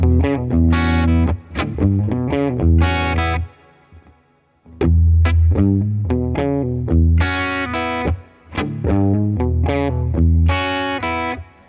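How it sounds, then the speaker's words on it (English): A blues rhythm on electric guitar with offbeat chord stabs, hammer-ons and pull-offs. Punchy, slightly distorted phrases mix open low notes with bright stabs, split by short pauses, with no talking. "We're going to add a couple of rhythmic chord stabs on the offbeats, and instead of picking through everything, we're going to use some hammer-ons and pull-offs"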